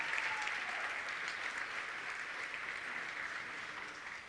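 Steady audience applause for Céline at a college anniversary gala, sustained and fairly loud, a dense wash of clapping with no talk over it.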